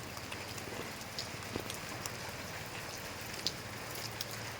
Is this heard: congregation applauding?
no